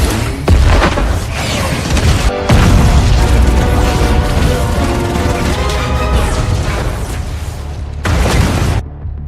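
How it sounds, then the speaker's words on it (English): A loud explosion erupts with a series of booming blasts and crashing debris, rumbling continuously with repeated heavy bursts. "A tremendous explosion destroyed Harlan's base and his army."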